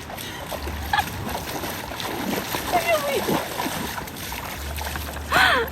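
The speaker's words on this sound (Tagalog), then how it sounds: "Lakas yung agos." A strong river current rushes and splashes steadily during a long ride to Nagtabon Beach in Palawan, heard outdoors under people talking and exclaiming.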